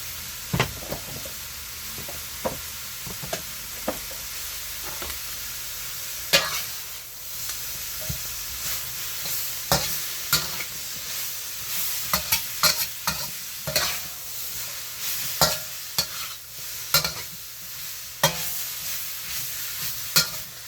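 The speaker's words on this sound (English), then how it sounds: "Now stir frying this up for a few minutes" Continuous sizzling in a pan with frequent spatula scrapes and knocks at an irregular rhythm, close up and fairly loud, no talking.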